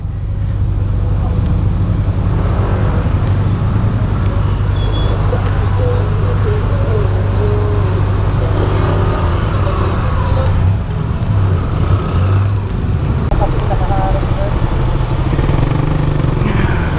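Heavy road traffic on Aguinaldo Highway along Naic Road in Cavite, with trailers nearby, forms a loud, constant engine drone and rumble heard from a motorcycle that is moving through it.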